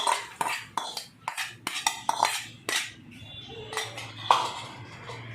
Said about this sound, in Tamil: இப்போ வெங்காயம் வதக்கி வச்சுருக்கோம், அதே இதில் போட்டுக்கலாம்.